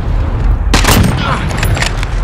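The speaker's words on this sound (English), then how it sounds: "Grenade!" Grenade blast in Call of Duty: Modern Warfare during a Gunfight match, a loud broadband boom erupting partway through over constant game noise, followed by scattered crackling sharp bursts.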